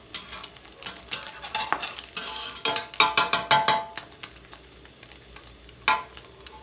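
Food sizzling and crackling as it fries in a pan in a home kitchen, with bursts of spatter and scraping stirs, the loudness rising and falling, no talking.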